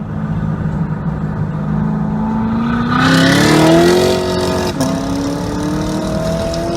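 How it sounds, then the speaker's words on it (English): A Corvette Z06 engine loud and close during straight-line acceleration, pitch climbing steadily as it revs through the gears, with a brief dip at a shift before pulling again; no voices. "I did do some straight line accelerations"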